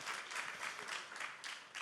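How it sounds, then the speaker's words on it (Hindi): Audience applause at a summit, a faint but steady wash of clapping that carries on for about two seconds with no voices over it. "तालियां जोरदार होनी चाहिए प्लीज"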